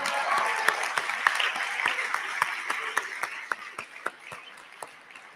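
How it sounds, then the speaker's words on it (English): An audience at an advertising awards gala claps in a full round of applause, with sharp individual claps standing out. The clapping gradually thins into scattered, sparser hand claps. "let's also give all the moms in the room another round of applause"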